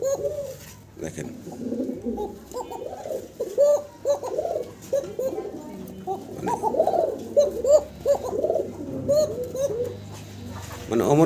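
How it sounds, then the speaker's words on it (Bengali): A pair of Kaka pigeons coo repeatedly in soft, throaty phrases that rise and fall. The calls are close and steady across the whole stretch, with short gaps between bursts. "আরও এক জোড়া ককা কবুতর। এটারও ডাক শোনাবো আপনাদেরকে।"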